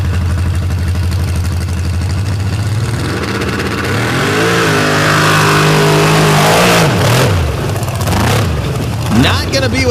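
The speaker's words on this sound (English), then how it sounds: "You hear that low thump of this massive cubic inch engine with nitrous." Nitrous-fed drag racing car with a massive cubic-inch engine, a loud low rumbling idle that rises into a hard revving pull, with crowd and announcer voices layered over it.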